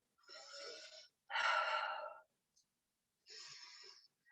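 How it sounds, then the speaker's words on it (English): Slow, deep breaths during a yoga session: three long, soft airy inhales and exhales, close to the listener and separated by silences, with no talking. "Breathing here."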